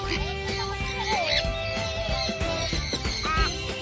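A bird squawks repeatedly at close range, harsh rasping calls layered over a busy background at what appears to be a wildlife facility, with some murmuring voices mixed in.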